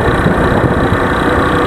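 A loud, steady engine rumble runs throughout, close up and unbroken, like a motorcycle idling: a Keeway CR152 motorcycle with a clutch problem.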